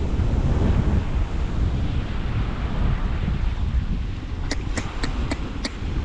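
Ocean waves break and wash steadily at a small blue lagoon shore, a continuous loud roar of surf mixed with wind buffeting the microphone, with a few faint high clicks near the end.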